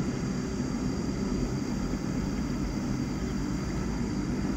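A large business jet, similar to a Gulfstream and registered T7-852 out of Thailand, approaches from a distance as a steady, broad engine roar that holds evenly without any talk.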